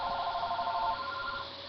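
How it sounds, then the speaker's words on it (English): A phone rings with a steady electronic tone, faint and muffled, holding evenly before tapering slightly at the end. "And there goes my phone for some apparent reason."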